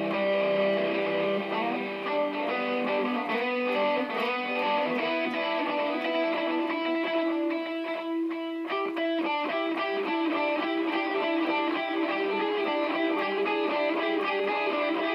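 Electric guitar plays the slow solo section of a song as a continuous sustained line with a distorted, effected tone, steady and loud throughout with no talking.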